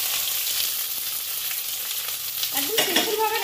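Onions sizzle in hot oil with dried red chillies, cardamom and cinnamon in a pan for mutton curry, a loud close steady frying hiss with brief stirring scrapes near the end.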